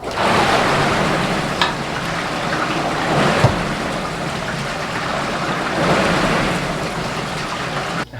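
Water sloshing and rushing inside the tank of a Fitness Reality 3000WR water rowing machine, a steady broadband swish that swells in waves with each stroke, fairly close and continuous with no talk.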